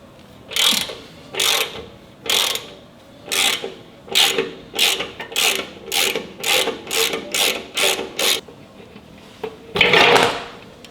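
While a fat tire bike kit is being installed, a ratchet wrench removes bolts in a close, loud series of rhythmic clicking bursts, with a final longer rattle.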